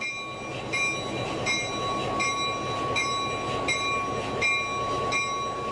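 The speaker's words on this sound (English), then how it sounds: "As the locomotive approaches the caboose, he checks that the couplers are open to tie on." A locomotive rolls slowly toward a caboose to couple on a heritage railway, giving a steady mechanical rumble with thin, ringing metallic tones and soft clanks throughout.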